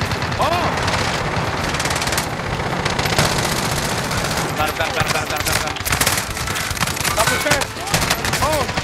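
Rapid bursts of automatic gunfire in Call of Duty Warzone, dense and loud with repeated volleys, while players talk excitedly over the shooting.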